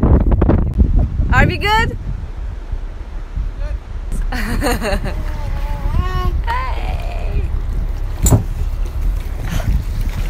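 Steady wind roars over a boat in a storm, a broad constant rush beneath brief voices calling out and some clattering.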